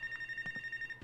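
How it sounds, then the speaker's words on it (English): Phone ringing in the Life is Strange: True Colors video game, a faint steady electronic trill with a few soft thumps underneath, no voices. "Phone call."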